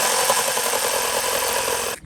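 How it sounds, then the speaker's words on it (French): A jigsaw cutting wood planks buzzes loudly and continuously for about two seconds, then cuts off abruptly. "Allez, un petit coup de scie sauteuse et ça devrait le faire."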